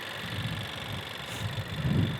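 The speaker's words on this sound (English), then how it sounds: "this is a 192 horsepower VTEC 4-cylinder engine, and turbocharged" A 2021 Honda Accord Sport Special Edition with a 192-horsepower turbocharged VTEC four-cylinder idles steadily, a low, even hum with a faint whine and slight vibration, close by and without talk.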